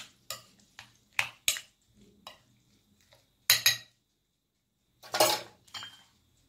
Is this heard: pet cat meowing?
no